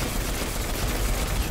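Rapid gunfire from a weapon in the shooter game Destiny 2, a dense continuous burst of shots with heavy low-end rumble, loud and sustained throughout without any talking.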